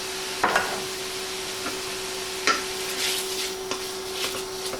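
Chicken cooks in a pot for a one-pot cheesy chicken, rice and broccoli dinner, with a low sizzle under a steady hum and several sharp utensil clinks and scrapes against the pot; no talking.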